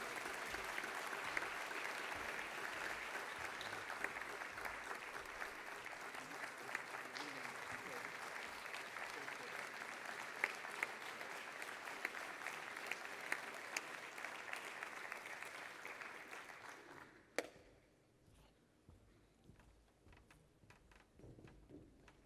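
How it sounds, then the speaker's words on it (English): At an opening ceremony in Barcelona, an audience gives sustained, even applause for roughly seventeen seconds before it stops abruptly, leaving only faint room noise. "give him a very good round of applause"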